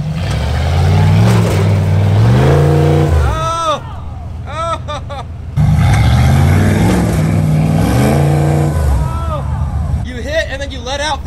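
Off-road vehicle engine revving hard in mud at an Arkansas off-road park, loud roaring surges that drop off and then climb again, with people talking and shouting over it close by.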